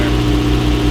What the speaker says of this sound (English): Oh, look at that high rev.